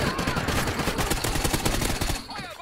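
A dense stream of automatic gunfire in a Call of Duty Ghosts multiplayer match rattles on for a couple of seconds, loud and rhythmic, before cutting out.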